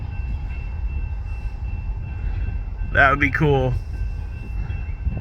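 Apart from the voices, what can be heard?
train passing behind backyard bushes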